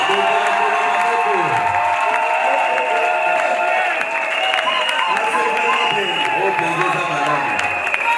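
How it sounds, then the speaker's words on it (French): A church congregation at a wedding blessing applauds and cheers steadily, a dense wash of clapping with shouts mixed in, loud and close throughout. "Applaudissez pour le Seigneur."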